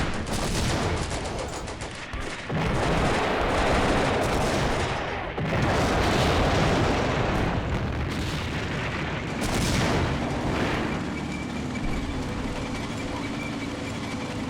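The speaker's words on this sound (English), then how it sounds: "The archer is still firing." Archer tank destroyer firing in the Combat Mission WWII strategy game, amid a dense, continuous barrage of booming gunfire and artillery blasts that rolls on loudly for the whole stretch with brief lulls.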